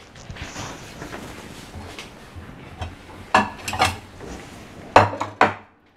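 Almond-filled chocolates being cut with a knife on a hard surface, a few sharp clinks and taps, clustered near the end, over a quiet kitchen background.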